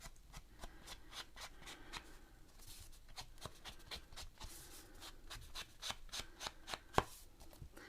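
Vintage photo paper edges being distressed with quick, repeated scratchy rubbing strokes, soft and close, in an irregular rhythm with no talking.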